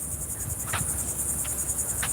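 Crickets chirp at night in a constant high, shimmering trill, with a few brief louder chirps standing out. The sound is fairly faint and carries on with no talking.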